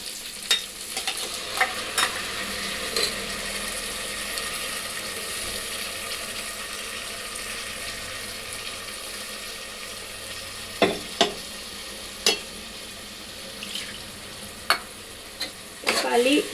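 Ingredients sauté quietly in a pan with a low, constant sizzle, while a few sharp clinks and scrapes of a stirring utensil punctuate the second half; no one speaks.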